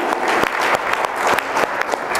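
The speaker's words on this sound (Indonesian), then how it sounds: "Beri tepuk tangan bagi Tuhan" A church congregation claps for God during a worship service, dense steady applause with sharp individual claps standing out, close and loud for a couple of seconds.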